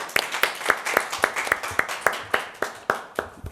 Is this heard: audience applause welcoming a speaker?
yes